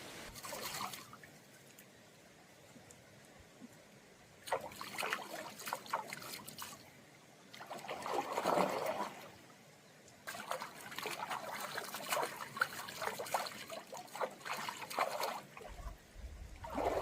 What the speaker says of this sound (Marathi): थंडगार पाणी हा फळाचा डोंगरातून येता, झऱ्यातून येता मस्त